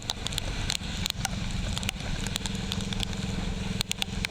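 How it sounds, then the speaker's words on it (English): Rain striking a camera outdoors in Thailand makes scattered sharp crackles and pops over a low, steady engine-like rumble, close to the microphone, with no speech. "I hear crackling. Oh no, that's the rain on the camera."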